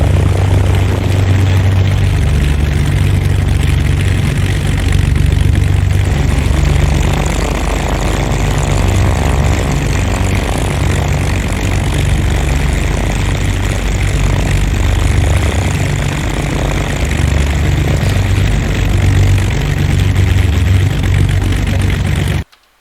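Twin propeller engines of a Beechcraft Baron 58 in X-Plane 11, running steadily on the ground as they warm up, a loud continuous drone with a low throbbing hum throughout until it cuts off at the very end.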